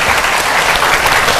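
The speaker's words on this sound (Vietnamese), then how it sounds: "vỗ tay cho anh làm nè mọi người" Dense, continuous applause from an audience fills the space, loud and even throughout with no pauses or individual voices standing out.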